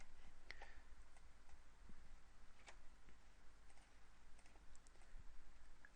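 Text being typed on a computer keyboard while making a banner in Photoshop: sparse, light key clicks sound close but quiet against a soft background hiss, with no voices.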